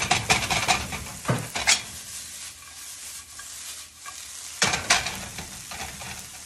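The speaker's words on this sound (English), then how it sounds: "Stir it around." Vegetable fried rice glazed with honey, stirred and sizzling in a hot pan: a steady fry hiss under repeated scraping strokes of a utensil, with two louder bursts of stirring, close and with no talk.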